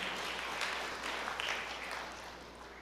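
A church congregation applauds during a sermon, a soft, distant wash of clapping that swells and then fades over a few seconds.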